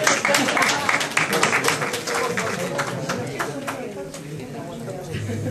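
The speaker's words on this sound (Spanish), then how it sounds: "Un aplauso para ellos, ¿eh?" A folk music audience at an ethnographic museum breaks into loud, dense applause that stays strong, then thins into scattered claps with murmuring toward the end.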